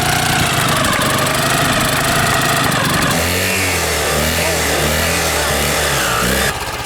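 A Ural motorcycle engine runs with the choke pulled out, first a rough, busy racket, then it settles into a loud, throbbing idle close to the listener, with no one talking over it.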